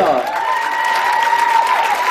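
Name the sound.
audience applause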